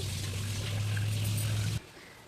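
Thick jaggery syrup, cooked for peanut chikki, pours steadily into a measuring container for nearly two seconds and then stops abruptly. The pour is close and continuous, with no talking.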